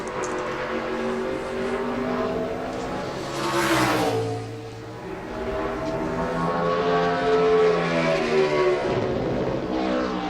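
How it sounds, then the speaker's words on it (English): A NASCAR Sprint Cup race car screams at high revs during a 2011 practice and qualifying session, its engine note holding and wavering against the rev limiter as it passes, loud and sustained with no talk. "You hear him hitting that rev limiter"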